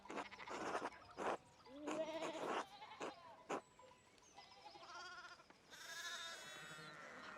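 Sheep bleating in the video game Pentiment, several separate wavering bleats in a row, fairly close and clear, with short gaps between calls.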